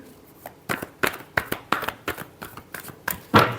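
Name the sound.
tarot cards being shuffled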